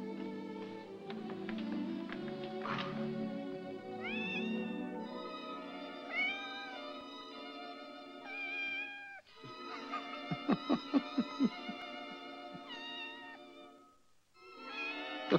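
A cat meowing repeatedly in drawn-out, wavering cries, some rising and falling, with a brief run of sharp tapping in the middle, fairly close and alone without speech.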